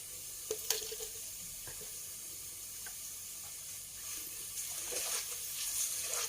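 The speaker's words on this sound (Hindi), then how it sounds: "मैं ये चीज़ें अच्छे से भून लेती हूँ। इसमें मैं नमक डाल लेती हूँ।" Spices and salt fry in oil for a cauliflower sabzi, giving a soft continuous sizzle with a few scattered clicks and scrapes of stirring, close and fairly quiet, with no voices.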